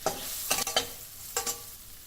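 Tomato with red chilli powder, turmeric, coriander powder and garam masala sautéing in a pan for an eggplant dish, a soft sizzle broken by a few distinct spatula stirs and scrapes, close and without speech.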